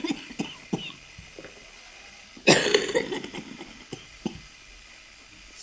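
A person with cystic fibrosis coughs once during an autogenic drainage breathing session, a sudden harsh burst, with quiet breathing and small clicks before and after.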